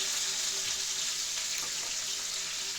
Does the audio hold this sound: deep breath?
no